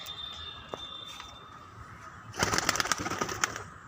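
A quiet hum gives way to a sudden burst of pigeon wings flapping rapidly nearby for about a second.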